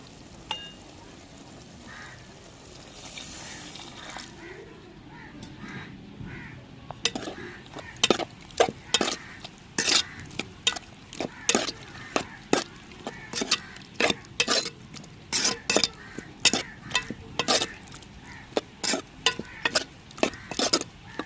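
Sautéed vegetables and spices for a vanjaram fish head curry get stirred in hot oil, a soft sizzle under rapid, repeated scraping clatters of a spoon against the pan, close and busy, with a few caws of crows outside.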